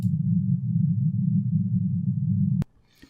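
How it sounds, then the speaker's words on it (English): Broadband noise passed through a 100 to 200 Hz bandpass filter gives a steady, loud low rumble that holds for about two and a half seconds, then cuts off abruptly into near silence. "And if I took the noise and put it through a bandpass filter which lets through the frequencies between"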